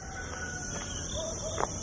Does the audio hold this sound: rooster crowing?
yes